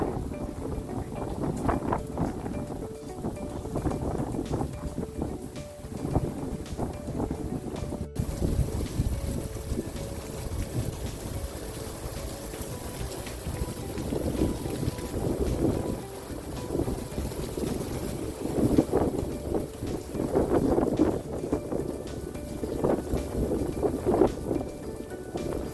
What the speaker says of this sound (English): Love a good rainstorm. Doesn't that just sound so